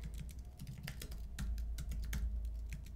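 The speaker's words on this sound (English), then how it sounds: "we can type in a URL" Rapid, irregular clicks of keys being struck on a computer keyboard while a web address is typed, close and fairly quiet, with no talking.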